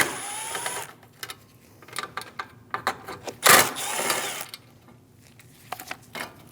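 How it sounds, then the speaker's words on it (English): Small 7mm hood latch bolts on a Chevrolet Malibu being worked loose with a ratchet, sharp clicks and metallic taps in irregular short bursts, with one louder rattling clatter midway, close and fairly quiet. "Remove the two 7mm bolts for the hood latch."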